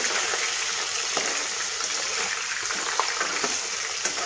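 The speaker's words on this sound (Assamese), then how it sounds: "অলপ কাঢ়াকৈ ভাজিছোঁ মাছখিনি।" Fish pieces fry crisply in hot oil for a greater yam fish curry, giving a steady, even sizzling hiss with faint crackles and no voices.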